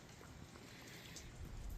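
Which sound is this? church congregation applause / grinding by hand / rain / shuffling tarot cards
rain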